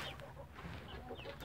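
A fighting rooster's soft clucks and short calls sound faintly at a distance over a low background hum, brief and sparse.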